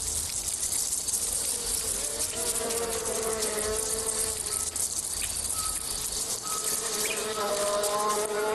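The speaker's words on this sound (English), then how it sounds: "Wax is a favoured food of this parasitic wasp, who was delighted to find it." A parasitic wasp buzzes steadily on a wax moth's forest tree, with continuous insect drone and faint chirping throughout at moderate, even loudness.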